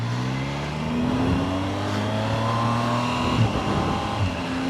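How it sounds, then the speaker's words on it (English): A Triumph Tiger Sport 800 motorcycle engine revs up through the gears on an autumn ride, its rising tone dropping sharply at a smooth quick-shifter upshift before climbing again under steady wind noise. "quick shifter is such a smooth thing on this motorcycle"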